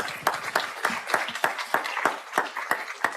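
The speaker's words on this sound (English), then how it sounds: "Huge applause" Applause at a computer science alumni hall of fame induction ceremony: scattered, distinct claps from a modest audience, individual hand strikes standing out in an uneven rhythm at moderate loudness.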